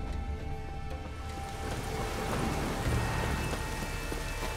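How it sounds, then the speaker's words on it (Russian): Steady rainfall in the video game The Witcher 3 patters and hisses continuously, growing slightly louder, with a faint low rumble underneath and no voices. "Опять дождь."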